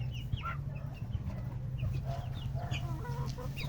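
Chickens cluck in a small backyard poultry flock, with scattered short calls near and farther off over a steady low hum of the surroundings.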